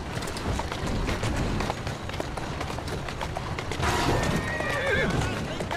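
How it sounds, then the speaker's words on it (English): In Assassin's Creed Syndicate, horse hooves clip-clop rapidly alongside street clatter, followed by a loud, high whinny near the end, with someone speaking over parts of it. "Who's a good horse? You are."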